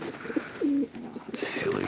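Pigeons coo nearby in a short, low, throaty call, followed by a faint rustle and soft background murmur.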